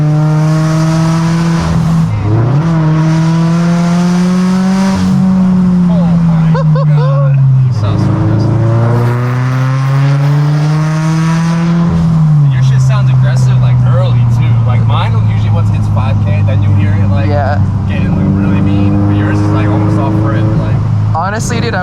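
A turbocharged Subaru BRZ with an aftermarket catback exhaust drones loudly and steadily up close, the engine note rising and falling through several gear changes over about twenty seconds.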